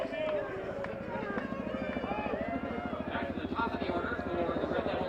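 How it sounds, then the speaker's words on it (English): Helicopters pass over Story Field during a college baseball championship game, a steady rhythmic rotor chop running throughout under continuous play-by-play commentary. "the helicopters fly by here at Story Field."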